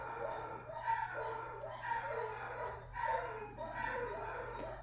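A dog named Bela bays and howls in long drawn-out calls that rise and fall in a few repeated waves, fairly faint and distant over a low steady hum.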